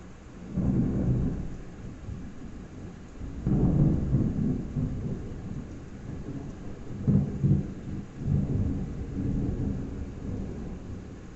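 Morning thunderstorm with repeated low, rolling thunder peals swelling and fading over a steady bed of falling rain, loud and close, with no talking.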